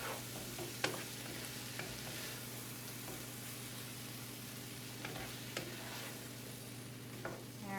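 Ground pork stirred in a hot pan for Asian pork burgers, a steady low sizzle with a few scattered spoon scrapes and clicks, moderately faint and alone with no voices.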